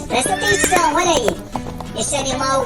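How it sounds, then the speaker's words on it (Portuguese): A horse neighs in a loud, shaky whinny, with clip-clop hooves alongside, while a presenter speaks over it. "É o som do cavalo!"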